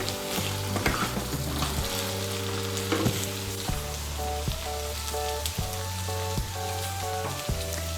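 Winter vegetables for Bengali jhal suji stirred and fried in a pan, with a constant close sizzle under repeated metallic scrapes and knocks of the spoon against the pan, and no talking.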